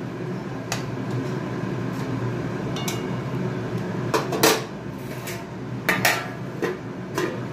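A lid goes onto a cooking pot of ginger and spices in a home kitchen, with several sharp metallic clinks and clatters against a steady background hum of a fan or stove.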